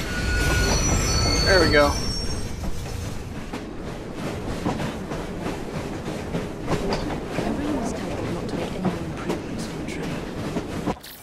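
Train in Assassin's Creed Syndicate, wheels squealing and rattling along the rails with steady clatter for the whole stretch, a loud screech early on, and someone speaking briefly over it.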